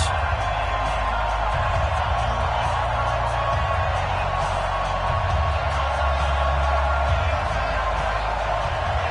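Stadium crowd noise in an EA Sports NFL video game, Tennessee Titans versus Detroit Lions: a loud, unbroken roar filling the whole stretch, with a steady low rumble beneath.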